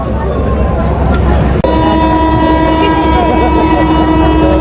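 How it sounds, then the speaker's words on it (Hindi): Departure whistle at a Pakistan Railways station platform on a rainy day, a sustained steady tone starting about a third of the way in and holding to the end over constant rain and platform noise. "तो दोस्तों डिपार्चर विसल हो गई है, अब दूसरी विसल होने का इंतज़ार कर रहे हैं जी"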